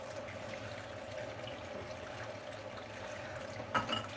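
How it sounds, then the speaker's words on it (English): A soapy makeup brush is rinsed in water, giving a soft continuous trickle and swish with a brief louder splash near the end, faint and alone. "That's why you want to rinse it frequently."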